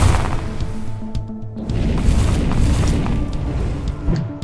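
A gunshot hits a giant flaming corgi in the video game Corgi Warlock, giving a deep booming impact followed by a rumbling fiery burst that stays loud and dense for several seconds.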